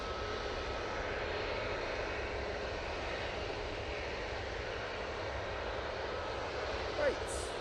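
A passenger jet climbs away from Manchester Airport bound for Malta, its engines a steady, broad roar held at moderate distance, with a brief sharper sound near the end and a voice talking over it.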